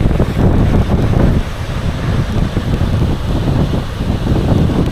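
Strong wind gusting across the open deck of a UK ferry crossing the English Channel, a loud steady roar with buffeting against the microphone and a hint of sea and engine rumble beneath.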